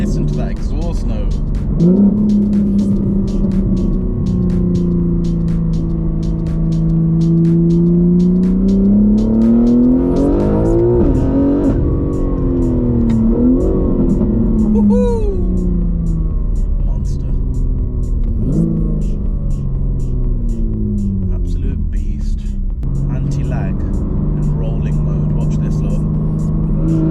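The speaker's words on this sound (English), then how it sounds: "Listen to that exhaust note." Exhaust of a 1000 hp BMW G81 M3 roaring through repeated hard accelerations and shifts, with anti-lag pops and crackles, loud from inside the car with excited voices over it.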